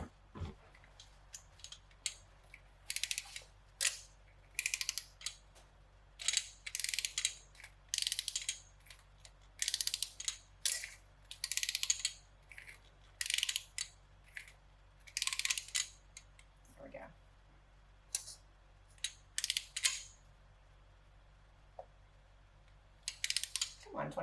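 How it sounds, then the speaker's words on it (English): Torque wrench ratcheting on a bolt while work is done on a Honda S2000, in repeated bursts of quick, close clicking separated by short pauses, with some faint movement between strokes. "I've got my handy dandy torque wrench"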